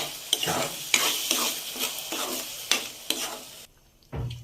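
Ground spinach paste being stirred in a hot pan for palak paneer, repeated scraping strokes over a soft sizzle, close and fairly loud, stopping briefly near the end before a last bump.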